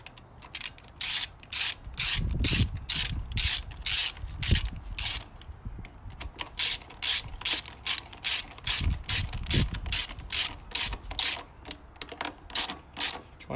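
A ratchet wrench tightens the cylinder head gasket bolts on a lawn mower engine, clicking in fast bursts of strokes with short pauses between them, close and alone.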